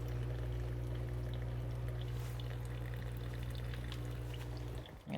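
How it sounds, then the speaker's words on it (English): Water pours steadily from a container during cooking prep for a barbecue meal, a continuous close splashing stream running for several seconds over a low background hum before stopping abruptly. "You guys are gonna hear me pour the water on this side"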